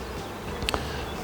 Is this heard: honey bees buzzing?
yes